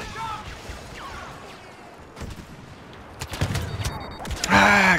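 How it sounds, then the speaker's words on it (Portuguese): Gunfire in Star Wars Battlefront's Rogue One battle, scattered shots and bursts growing louder toward the end, mixed with game effects and voice chatter over a busy background. "Comecei a atirar."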